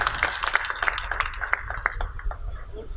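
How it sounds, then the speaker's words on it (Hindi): An audience welcomes the chief guest at a World Cancer Day gathering in Mumbai with scattered hand claps, sharp and fairly close, breaking into a loose uneven rhythm that thins out toward the end. "तालियों से उनके स्वागत का इजहार करें।"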